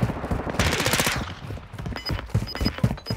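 Rapid automatic gunfire in Call of Duty: Modern Warfare 2 multiplayer, a loud close burst of shots followed by further scattered bursts and faint in-game beeps.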